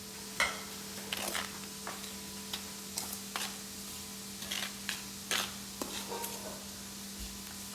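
A spoon stirs ingredients in a container outdoors, producing a series of faint, irregular clicks and light taps spread across several seconds over a quiet background hum, with no talking.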